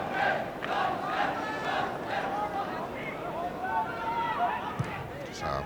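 Small football crowd at Swansea during a Wales v Norway match, a broad murmur swelling into shouts and cheers, heard from a distance with a commentator talking over it.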